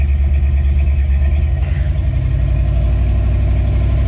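A 1968 Ford F100 pickup with a 360 V8 runs after a carburetor rebuild, its engine loud and close, holding a steady, rumbling idle that lifts slightly partway through.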